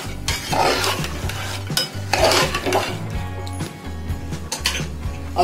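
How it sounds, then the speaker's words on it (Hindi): Cooking ingredients for black chana shammi kababs stirred with a cup of water in a pressure cooker: a close, continuous scraping and clinking of a spoon against the metal pot, with no talking. "अब हम इसमें 1 कप पानी डालेंगे और सभी सामग्री को अच्छी तरह से मिला देंगे।"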